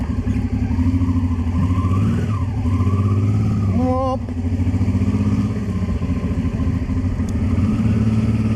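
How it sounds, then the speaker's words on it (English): A motorcycle engine thrums steadily and revs up and down close by near the closed Russian border in Estonia, a continuous loud rumble with a brief sharp chirp partway through. "Why are motorcycles so awesome?"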